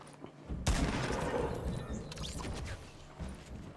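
Dense video-game gunfire with shotgun blasts erupts after a brief quiet start, a loud continuous volley of shots in a squad battle-royale match that gradually thins out.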